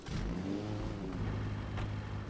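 A car engine revs in the video game Lockdown City, a loud steady droning tone with rising harmonics as it accelerates, heard alone.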